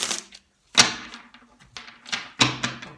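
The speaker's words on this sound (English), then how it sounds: "one last good shuffle please" A deck of tarot cards being shuffled in a few separate bursts, each a quick flurry of papery flicks and taps with short pauses between them, close and fairly loud.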